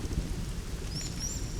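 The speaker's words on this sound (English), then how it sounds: "raindrops are falling" Rain falls steadily on the Serengeti while low thunder rumbles underneath, a dense continuous wash with a few high chirps near the end.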